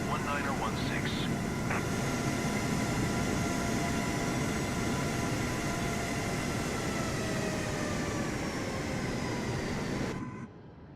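Delta airliner on the takeoff roll in Microsoft Flight Simulator 2024, a loud steady jet engine roar with rising whine that holds for about ten seconds and then cuts off abruptly, with no voices.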